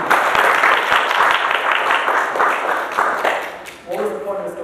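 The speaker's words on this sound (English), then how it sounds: "Let's give her another round of applause." An audience breaks into warm applause, dense clapping sustained for several seconds before tapering off, with a voice starting to speak as it dies down.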